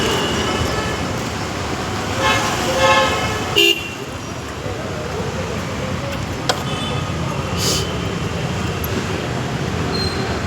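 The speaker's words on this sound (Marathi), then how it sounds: "गाडी आली मागून" A vehicle on a busy roadside lined with shops passes close from behind, a broad rush of traffic noise with a brief horn toot near the middle, all under steady street din and people talking.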